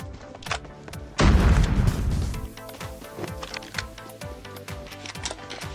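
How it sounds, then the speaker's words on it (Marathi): In the video game Scarfall 2.0, a shotgun fires a single heavy boom with a short rumbling tail, set among rapid clicking game sounds and steady background effects. "मस्त शॉटगन चालवतात रे पोर"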